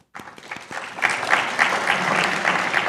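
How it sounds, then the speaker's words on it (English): Audience applause at a university honors colloquium evening event, starting abruptly and swelling into steady, loud clapping from a full room that holds for three seconds. "ask you to give them a little applause"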